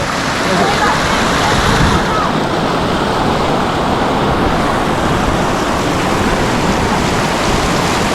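Cold mountain river water in the Parvati Valley near Kasol rushes over rocks in a loud, dense, continuous roar heard close by, with no pauses for the full length.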